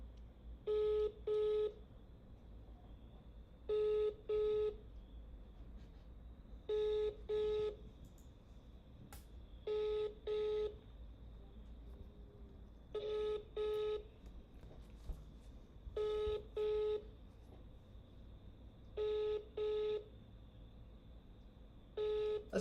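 A phone call's ringback tone repeats at regular intervals, paired electronic beeps recurring about every three seconds over a faint steady background hum.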